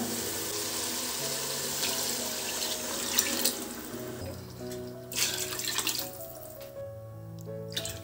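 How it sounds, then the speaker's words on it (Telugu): Water poured from a vessel into a pot of frying chicken for donne biryani, a continuous close splashing pour that thins out toward the end, with faint clinks, no talking. "ఇప్పుడు వచ్చేసి మనం నీళ్ళు పోసుకుందాం."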